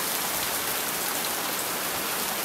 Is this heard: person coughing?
no